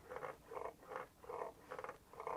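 Six evenly spaced squeaky creaks from the springs of an Asetek Invicta S-Series sim racing pedal, each a short rasping burst as the springs compress and release, close and moderately loud.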